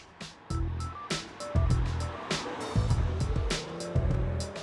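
A 200-horsepower five-cylinder turbo engine in a first-generation Audi Quattro with permanent all-wheel drive, revving in repeated bursts with loud throttle blips and gear changes, the roar rising and falling close by with no talk over it.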